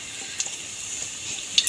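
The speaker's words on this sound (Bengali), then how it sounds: "আগে থেকে যে কাটা আলুগুলো তেলের মধ্যে দিয়ে দেবো।" Cut potatoes fry in hot mustard oil, a steady bright hiss of sizzling oil with a few faint ticks and pops, close and continuous over the short stretch.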